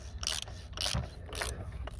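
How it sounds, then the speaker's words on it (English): A wrench turns an oil filter tight on a 2017-or-later Land Rover Discovery diesel TD6, giving three short bursts of rapid mechanical ratchet clicks, close and fairly clear, with brief pauses between them. "So now you want to turn the wrench to the opposite direction and tighten it."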